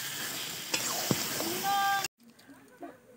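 Marinated meat sautéed in spice paste sizzles loudly and steadily in a pan for about two seconds, then cuts abruptly to a quiet room with only faint, scattered sounds.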